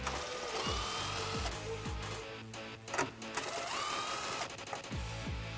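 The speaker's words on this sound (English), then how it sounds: "I'm going to use a 10mm socket and go ahead and remove those." Ratcheting socket wrench loosening 10mm front grille support bolts on a 2016-2020 Toyota Tacoma, with quick repeated clicking bursts in close, steady runs over a busy workshop background.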